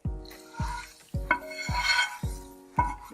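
A coconut oil tempering of onion, crushed red chili and cumin is stirred into a keto bottle gourd kefir raita. A spoon knocks the bowl about six times in ringing metallic clinks, each separated by soft mixing.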